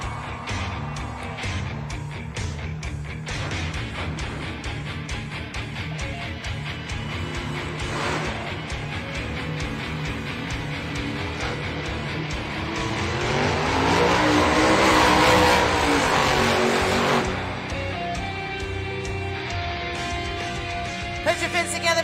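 Monster Jam truck Megalodon, driven by Ashley Sanford, roars and revs loudly inside the Denver arena, its engine swelling to a peak near the middle, all under constant crowd noise and announcer talk.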